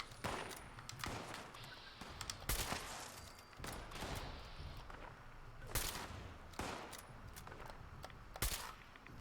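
Video-game gunfire aimed at the player from enemy shooters: repeated sharp shots at irregular intervals over a steady background rumble, some louder and closer, others distant.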